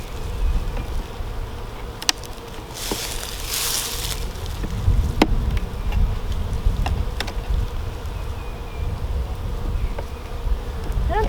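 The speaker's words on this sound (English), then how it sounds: "Got a couple bees that are not too happy." Honeybees buzzing loudly and continuously around an opened hive during a spring hive inspection, a dense close drone with a few sharper passes and light knocks from handling frames.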